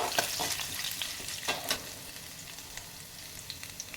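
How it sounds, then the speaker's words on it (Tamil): Ginger fries in hot oil with mustard seeds, urad dal and cumin, making a quiet, crackly sizzle broken by small pops and a few spatula clicks, with no voices. "கடுகு உளுந்து ஜீரகமெல்லாம் பொரிஞ்சல்னையும் நான் இஞ்சி அதுலேயே போட்டு போகிறேன்"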